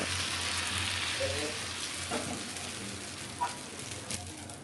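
Appam batter sizzles steadily in a hot oiled kadai as it is swirled around, a close, even crackle with a few soft scraping taps and no talking.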